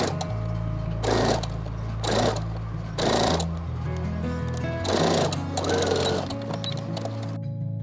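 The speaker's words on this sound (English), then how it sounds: "I'm gonna stitch lace to the both panels of the collar." Sewing machine stitching lace onto both panels of a frilled fabric collar, running in several close, steady whirring bursts with brief pauses between them, accompanied by a constant low hum.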